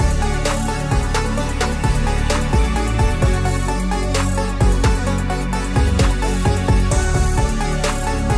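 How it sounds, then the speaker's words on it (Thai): A synthesizer beat built up from a plain piano sound plays loud and dense throughout. Punchy percussive hits sit over layered tonal synth parts in a steady groove, with no voices. "นี่คือทั้งหมดนะครับที่เราเสกนะครับทั้งหมดเลยจากซาว ธรรมดาที่มันเป็นเปนโนนะครับกลายมาเป็นแบบนี้เลยนะครับ"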